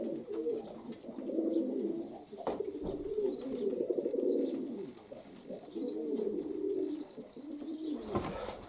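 Pigeons in an aviary coo in low, rolling phrases, repeating in steady bursts close by, with brief pauses between calls.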